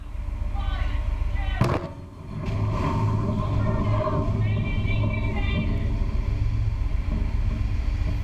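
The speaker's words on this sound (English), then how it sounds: "setting off thousands of kilos of explosives right next to it" Thousands of kilos of explosives detonated in the sea beside the USS Gerald R. Ford warship off Florida, a sharp blast followed by a heavy sustained rumble, with a voice talking over it.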